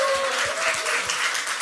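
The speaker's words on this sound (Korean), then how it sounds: "우리 그렇게 하신 하나님께 영광의 박수 한번 올려드립시다." Church congregation gives a burst of applause during a revival service, dense continuous clapping with a faint sustained tone underneath, steady throughout.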